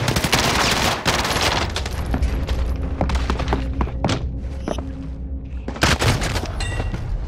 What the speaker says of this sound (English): shoot through the tent, dude